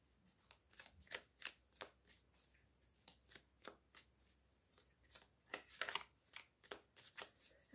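Tarot cards being drawn and handled, giving a run of quick papery flicks and shuffling riffles at steady close range, fairly quiet with no talking.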